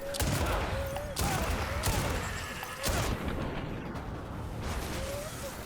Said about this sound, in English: I'm messing with this shotgun because it seems to do more consistent damage